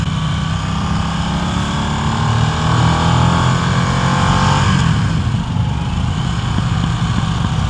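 A Harley-Davidson Nightster's Revolution Max V-twin engine roars while riding, a loud continuous close drone whose pitch rises and falls as the revs change, with wind rush underneath.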